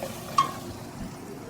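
Onions fry in a pan for Indo-Canadian pav bhaji with a soft steady sizzle and a single light clink of a spoon against the pan, quiet and close.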